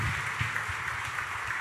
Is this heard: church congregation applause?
yes